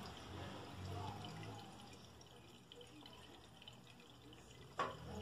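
Water runs steadily from a bathroom sink tap into the basin just after the drain trap has been cleaned, a soft continuous close-up flow with a brief louder splash near the end.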